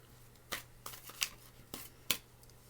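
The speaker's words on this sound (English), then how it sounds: "you can't even see me shuffling my cards" Tarot cards are shuffled by hand, giving soft scattered riffles and sharp papery snaps at irregular intervals, quiet and close with no talking.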